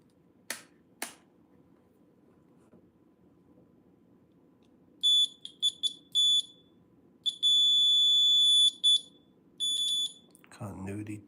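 A multimeter on a continuity check gives several sharp electronic beeps, short chirps then one long tone, after two early clicks. A voice follows at the end.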